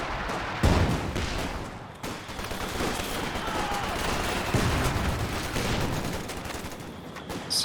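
A Vickers machine gun firing in Company of Heroes 2, a dense, sustained rattle of automatic fire layered with other battlefield shots, loud and continuous with no pauses.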